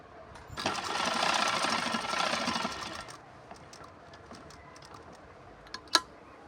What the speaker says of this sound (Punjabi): ਇਸੇ ਤਰ੍ਹਾਂ ਆਪਾਂ ਦੂਜੇ ਪਾਸੇ ਸਲਾਈ ਲਾ ਲਾਂਗੇ